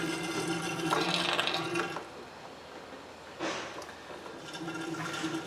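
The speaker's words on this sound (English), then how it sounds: "we're going to suck a little fluid out of it" Coolant being sucked out of a Nissan Frontier radiator, a faint close gurgling, slurping hiss in two short bursts with mechanical clicking between them.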